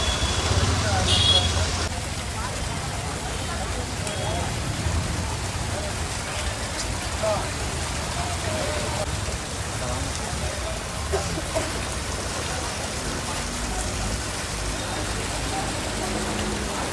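Heavy downpour in Puducherry pours onto waterlogged, flooded streets where vehicles crawl through, a steady dense hiss of rain with faint traffic rumble underneath, continuous and fairly loud throughout.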